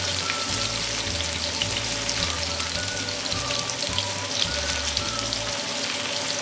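Paneer frying in hot oil until crispy gives off a steady, dense sizzle and crackle that runs without a break, close and loud, with no voices over it.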